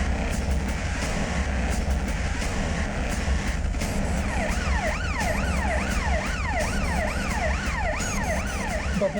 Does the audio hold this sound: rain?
no